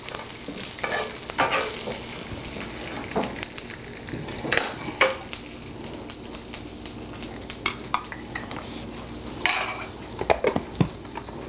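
A fruit and nut mix for mole frying in a pan, a continuous close sizzle with frequent scrapes and clicks of stirring, and no talk.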